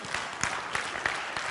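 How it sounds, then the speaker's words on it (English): A church congregation gives the Lord a hand clap: roughly steady rhythmic clapping with individual claps popping out about every third of a second over a continuous bed of many hands. "Give the Lord a hand clap"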